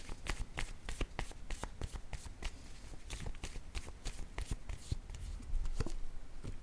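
A deck of oracle cards is shuffled in quick, rhythmic bursts of crisp flicks and taps, close and fairly quiet, continuing steadily throughout.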